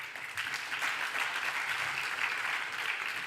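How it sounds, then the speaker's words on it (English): Audience applause in a conference room at a brainstorming session, a steady dense crowd of clapping hands that holds at an even level throughout with no speech. "So now applause to Carl Bildt for his excellent job."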